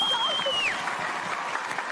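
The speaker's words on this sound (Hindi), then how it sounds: "तालियां बजती रहनी चाहिए।" Audience applause rolls on at a stage results announcement, a thick, steady clatter of hands with a sharp rising-then-falling whistle cutting through at the start.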